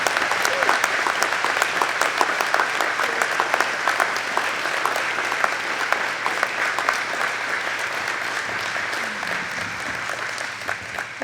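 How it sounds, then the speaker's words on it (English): A crowd applauding steadily at a community celebration of a 25-year Good Neighbor Agreement, dense continuous clapping that holds strong and fades slightly toward the end. "Please give everybody a big round of applause."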